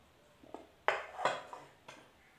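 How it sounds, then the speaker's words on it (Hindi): Cut pieces of wheat-flour dough for shakarpara are lifted and placed into a metal vessel, giving a few light, close clinks and taps spread unevenly over a couple of seconds in a quiet kitchen. "अब एक हम बर्तन में रख लेते हैं इसमें उठाकर"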